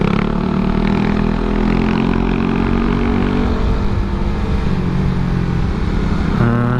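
Suzuki Satria fuel-injected motorcycle ridden in second gear, fitted with a hard Koizumi clutch, its engine droning loud and steady close by with a slight rise in pitch near the end.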